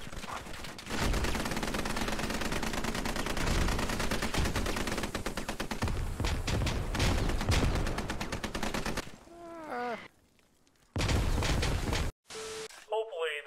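Rapid, sustained automatic gunfire during a live fire military training exercise, loud and close, pounding continuously for several seconds before giving way to shorter bursts and mechanical clatter.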